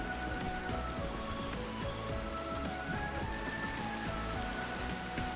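Steady rain falls in the Minecraft video game, a constant soft patter filling the whole stretch with faint tones running underneath.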